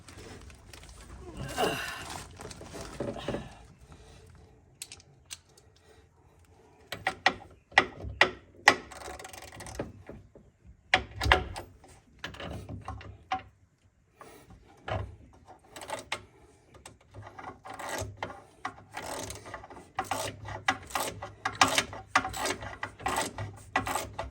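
Ratchet turning bolts while power steering parts come off a vehicle, with rapid clicking bursts that start and stop irregularly amid clanks from tools and metal.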